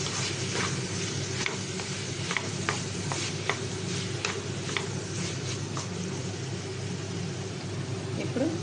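Spices stirred into pumpkin curry in a pan: a steady low sizzle with repeated soft scraping strokes of a spoon, close and continuous, with no talk over it.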